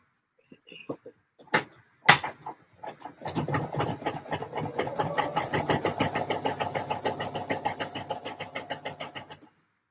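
A sewing machine stitches fabric in a steady, fast mechanical chatter after a few short starting clicks and taps, running continuously for several seconds before stopping.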